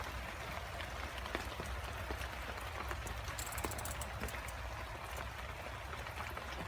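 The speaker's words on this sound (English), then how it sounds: "It's raining." Heavy rain pours steadily on a soggy outdoor campsite with wet ground and wood, a dense continuous hiss with close drops pattering throughout and no talking.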